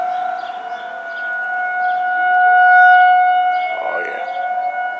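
An outdoor civil-defense tornado siren in Indianapolis sounds loud and steady. Its sustained two-tone wail swells and recedes as it rotates, and a faint passing vehicle is heard underneath.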